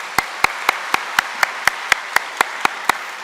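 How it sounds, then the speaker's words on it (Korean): A church congregation at a Korean Presbyterian Sunday service claps after an infant baptism: about a dozen sharp, evenly spaced claps in a steady unison rhythm, fairly loud and close, with no talk over them. "박수 한번 쳐주세요"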